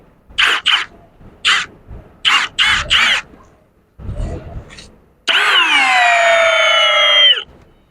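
A Milwaukee M18 FPD3 cordless drill drives a screw at high speed without using first gear, heard as several short, close motor bursts followed by one long, loud sustained whine that winds down at the end.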